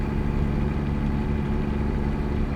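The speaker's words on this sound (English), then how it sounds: "Some throttle into it there. You can hear that engine crank up." Truck engine in American Truck Simulator, with an aftermarket sound pack, droning steadily as the throttle goes on, a loud, low, even rumble that fills the whole stretch with no speech.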